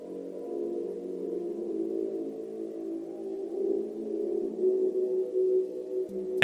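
A Five Nights at Freddy's game sound cue announcing Freddy's arrival in the sanitation room: a steady, hollow, sonar-like drone holds for several seconds, swelling slightly, then ends in a brief sharp click.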